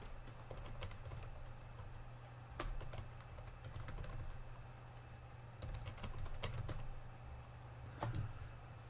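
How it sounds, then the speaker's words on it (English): Someone types on a computer keyboard while entering a blog address. Quiet, irregular key clicks keep coming throughout, with occasional louder taps and a low steady hum underneath. "I'll just type that in."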